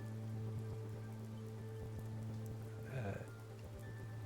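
Rain falls steadily with a constant wash of drops under a low hum, and a brief louder swell comes partway through; no one speaks.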